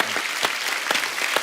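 Brief burst of dense, loud applause from a studio audience at a comedy talk show, continuous clapping with no talk over it.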